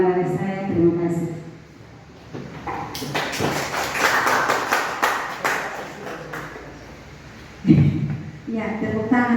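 An audience at a school teachers' gathering breaks into a burst of applause lasting a few seconds, rising between stretches of someone talking into a microphone.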